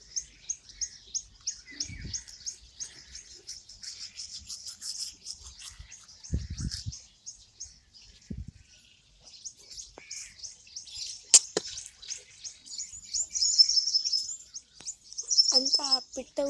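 A small bird near Chintapalli village calls in quick repeated high chirps, trilling in bursts over several seconds with brief pauses, set against quiet rural background with a few low knocks and faint voices.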